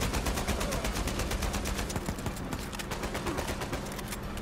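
Continuous rapid gunfire in Uncharted 4: A Thief's End, a dense stream of evenly spaced shots sustained throughout, fairly loud and steady with no talking.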